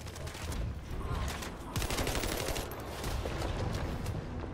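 Rapid automatic gunfire in The First Descendant as a squad shoots at a boss's glowing weak points, dense overlapping bursts that run continuously and loud for several seconds.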